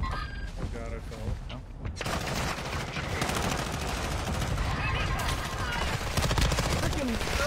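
Video game gunfire crackles in dense, sustained bursts of rapid shots and booms, loud and continuous, with a player's voice talking over the action.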